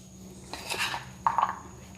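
Paneer recipe being mixed in a dish, giving two short bursts of utensil clinks and scraping against the dish, close and fairly quiet over a low steady hum.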